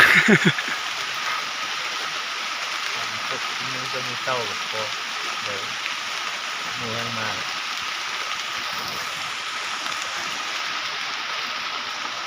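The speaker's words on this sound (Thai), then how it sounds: "ฝนตก" Steady broadband hiss of rain falling throughout, with a person speaking briefly in the middle over the constant downpour.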